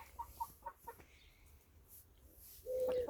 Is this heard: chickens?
yes